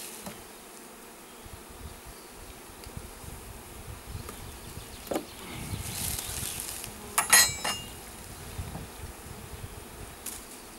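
A honeybee swarm being transferred into a hive, giving a steady dense buzzing throughout with brief louder swells and some handling rustles, close and continuous.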